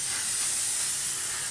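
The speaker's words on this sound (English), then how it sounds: "This is the setting glow mist or sun glaze sheer setting mist, SPF 50" Kapari Sun Glaze sheer SPF 50 setting mist sprays in one continuous, close, fine hiss lasting just over a second and then cutting off.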